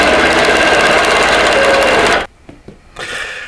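A quilting machine stitches across a wholecloth quilt, backtracking to its starting point, running loud and steady for about two seconds before stopping abruptly, then a few faint clicks and a brief quieter burst of stitching.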